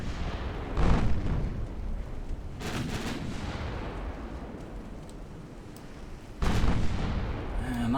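Naval ship guns fire in the video game Ultimate Admiral Dreadnoughts, with a heavy boom near the start and further deep blasts later over a low rumbling battle background, moderately loud.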